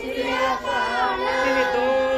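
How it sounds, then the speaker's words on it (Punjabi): A crowd of Sikhs at a Budha Dal ardas shouts the jaikara war cry together, a loud, sustained collective chant that holds steady without a break for the whole stretch. "ਗੱਜ ਕੇ ਜੈਕਾਰਾ ਗਜਾਵੇ ਨਿਹਾਲ ਹੋ ਜਾਵੇ"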